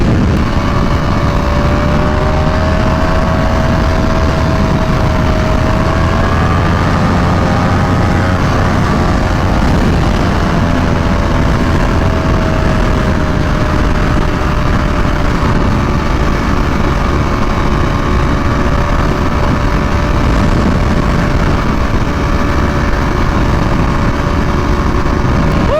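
Ducati V4R motorcycle engine running steadily at a loud, close idle with a continuous mid-pitched drone and rising harmonic tones, with no speech over it.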